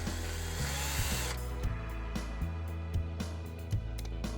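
A power drill or driver fastens three bolts on the motor controller of an MGI Navigator Quad golf trolley, a steady whirring run with short bursts and pauses, close and fairly loud, with no voices.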